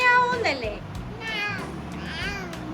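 A voice imitates a cat, giving a few drawn-out, wavering meows in quick succession, close and clear.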